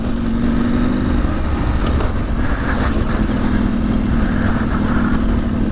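KTM 790 Adventure motorcycle riding a rough reservoir trail, its engine droning steadily and close throughout, with wind and gravel rumble mixed in and a few brief clatters.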